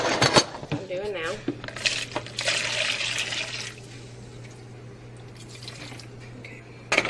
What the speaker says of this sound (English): if your potatoes were too heavy and your water is just a little bit too much, you can just dump that out.